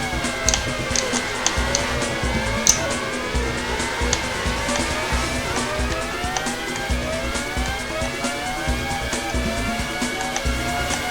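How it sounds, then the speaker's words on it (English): Williams Formula 1 car from the PS1 game Formula 1 98 racing on a bumpy track, its engine whining and climbing through gear changes without a break, with tire squeals and a steady roar throughout, no voices. "Very tough Williams Formula 1 car here."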